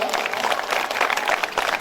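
Audience members at a kavi sammelan poetry gathering clap in a brief burst of crowd applause that is dense and steady throughout, with faint murmuring mixed in.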